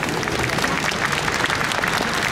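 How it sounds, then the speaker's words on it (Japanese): An audience applauds to welcome folk dancers onto a stage at an event about the Nishimonai Bon Odori in Akita. The clapping is loud, dense and sustained throughout, with no talking. "皆様拍手でお迎えください"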